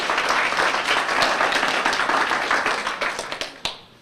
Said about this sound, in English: I think that deserves a round of applause for those donating their time.